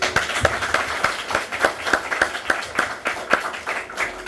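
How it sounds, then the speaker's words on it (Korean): Audience applause at a live book forum author talk in Daejeon, heard as a steady, moderately loud run of sharp claps with a regular rhythm, with no speech over it. "크게 다시 한번 박수 보내주시기 바랍니다"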